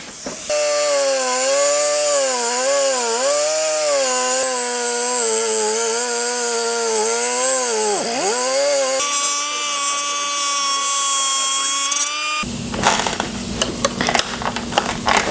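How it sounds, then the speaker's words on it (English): An angle grinder cuts through a bicycle crankset, a loud, sustained whine whose pitch sags and recovers as the disc bites into the metal, ending in harsher, rougher grinding noise. "you have to get on a grinder"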